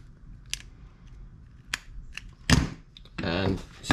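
Fishing line's tag end is trimmed while tying a snapper rig, giving a few sharp, quiet snips in an otherwise soft room.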